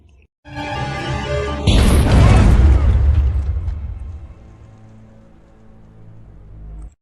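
A film bomb explosion: a sudden loud blast breaks over a low rumble, then a long roaring wash of debris and crackle slowly fades into a quieter, steady rumble.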